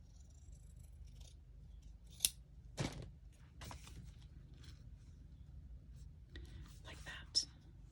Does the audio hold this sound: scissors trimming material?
yes